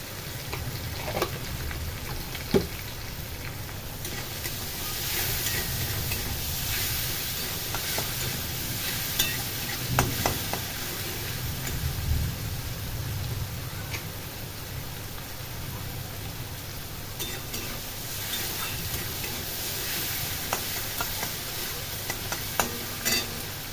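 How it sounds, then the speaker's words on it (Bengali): Onions frying with salt in a pan while being stirred: a steady, fairly quiet sizzle with scraping stir sounds and occasional sharper clicks throughout. "নুন দিয়ে নাড়াচাড়া করে নিই পেঁয়াজটা ভাজা ভাজা হয়ে গেলে সবজিগুলো আমি চাপিয়ে দেবো"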